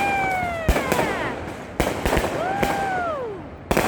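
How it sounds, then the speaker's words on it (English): Fireworks exploding over downtown New York City, sharp booms and crackling bursts arriving at intervals alongside whistling rising and falling tones, heard outdoors at a distance. "We get our own fireworks."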